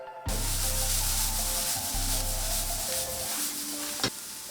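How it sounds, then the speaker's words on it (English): Onion, garlic, diced carrot, thyme and rosemary sautéing in olive oil over medium heat for shepherd's pie, a steady close sizzle that starts abruptly and runs throughout, with a brief scrape of stirring near the end. "Then add the diced carrot, thyme, rosemary and give it a good mix and saute for another 4 more minutes"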